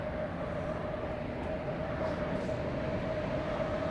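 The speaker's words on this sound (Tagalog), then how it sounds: "Train na walang driver" A driverless train rolls past in a steady, continuous rumble with a sustained tonal whine, moderately distant and even throughout.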